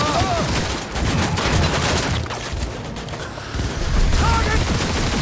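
Dense gunfire in Cyberpunk 2077, rapid overlapping shots and bursts close by, with faint voices mixed in during a chaotic firefight.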